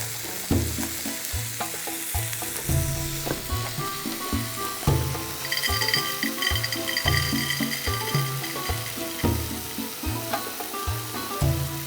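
Food sizzles and fries in a pan while being caramelized, a steady close crackle with repeated stirring knocks, and music playing underneath.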